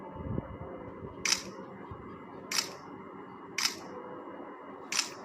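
Four crisp camera shutter clicks from an Itel A80 phone, evenly spaced about a second apart, each sharp and close over a faint room background with no talking.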